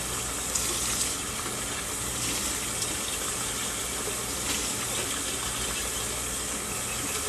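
Hot water runs steadily from a tap into a sink while canning jars are rewashed, a continuous close gush with no voices.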